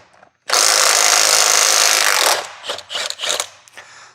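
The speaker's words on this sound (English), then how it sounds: "Might have to get the 1/2 inch impact out." A half-inch impact wrench works loose the wheel on a 2000 Dodge Ram 2500 Cummins during a front wheel bearing job, one loud sustained burst of nearly two seconds, then several short close bursts.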